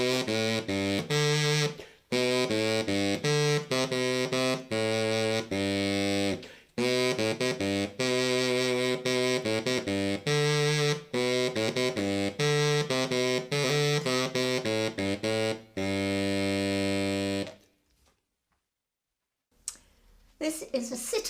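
A tenor double-reed wind instrument with nine bores plays a run of sustained, reedy notes in short phrases with brief breaths between them, loud and close, then stops and leaves near silence.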